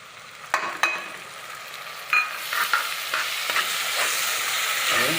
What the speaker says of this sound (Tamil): இஞ்சி பூண்டு பேஸ்ட்டு அந்த பச்சை வாசம் போகிற மாதிரி வணக்கணும்.